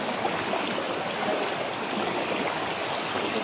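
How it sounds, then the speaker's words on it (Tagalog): Creek water flows steadily in a broad, continuous wash, close and even throughout, with no voices. "Dito kami sa may sapa ngayon."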